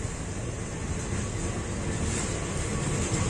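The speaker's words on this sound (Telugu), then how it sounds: "ఇదిగోండి ట్రైన్ ఇంకా అక్కడితో ఆగిపోద్ది" A continuous low rumble and rattle of a train rolling along the Death Railway in Thailand, steady and fairly loud throughout with no speech.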